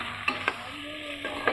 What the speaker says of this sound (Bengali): আর রসুন মাংসটাও ভালো মতো ভাজা হয়ে গেছে